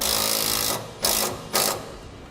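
A bolt on a 2012 Ram 3500 parking brake cable run down with a power tool, a continuous whirring buzz followed by two short, sharp bursts, close and steady with no talking.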